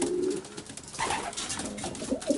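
Racing pigeons cooing in a loft, several soft throaty coos repeating close by over a busy background of wings and shuffling, with no talk.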